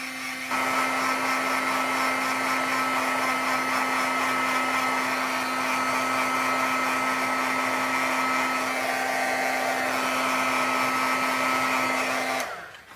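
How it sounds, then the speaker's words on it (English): A heat gun blows a steady, loud whirring hiss with a constant tonal hum, running continuously for about twelve seconds to dry freshly stamped ink on card, then cutting off abruptly at the end. "use my heat gun and just zap it real quick"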